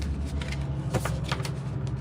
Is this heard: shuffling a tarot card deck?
yes